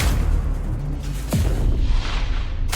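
A single gunshot fired in the superhero video game Dispatch, a sharp boom with a falling tail over a dense, steady game soundscape.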